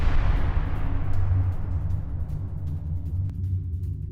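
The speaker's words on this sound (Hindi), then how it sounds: "ईरान के अबादान में धमाके की ये तस्वीर।" A fierce refinery explosion in Abadan, Iran, heard as a heavy, sustained low rumble that fades slowly over a few seconds, with no voices.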